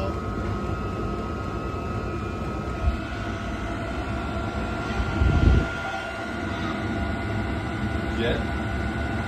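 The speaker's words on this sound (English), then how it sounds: "And ooh, yeah, listen to that bad boy. Diesel heaters and enclosed trailers." Diesel heater running inside an enclosed sled trailer, giving a steady loud jet-like roar and hum throughout, with a brief thump near the middle and no clear speech.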